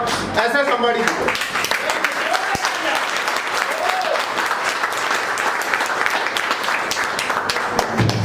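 Dense, sustained applause from an audience at a business leaders' meeting, steady and fairly loud throughout, with voices and cheers mixed into the clapping.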